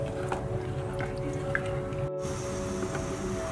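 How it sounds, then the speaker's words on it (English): Fruit custard stirred in a pan on the stove, giving soft, wet squishing and dripping sounds at a steady pace over a constant low background hum, with no voices. "Keep on stirring."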